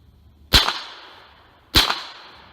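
Two sharp, bright impacts about a second apart from MP-5K submachine gun rounds striking a 6-inch steel plate at 30 yards, each a crisp crack with a short ringing decay, with nothing else around them.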